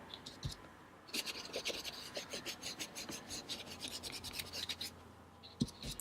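A medium is scraped around on a paper page, producing quiet, close, rhythmic rasping strokes that repeat in quick succession for several seconds with a few softer taps.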